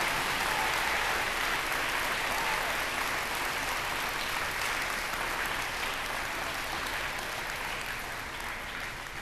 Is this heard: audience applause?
yes